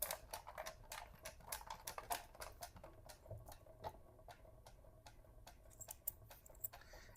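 A raffle ticket spinner drum loaded with 1000 red paper tickets is turned by hand, giving a fast, steady stream of light ticking and rustling clicks at close range, fairly quiet, with no voices.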